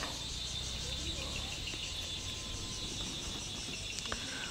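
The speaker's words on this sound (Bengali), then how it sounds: "যে ঝিঝি পোকার ডাকগুলা আরেকটু কাছ থেকে শুনবেন," Crickets chirp at dusk in the hills of Konglak Para, Sajek, a dense continuous high trill over a faint low rumble, steady and moderately near, with no voices.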